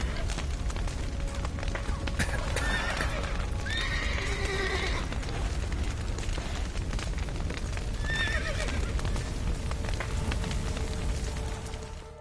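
A horse whinnies loudly a few times over steady hoofbeats and a constant rushing background in the video game The Witcher 3.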